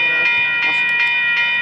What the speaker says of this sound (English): A northbound BLF Brightline train.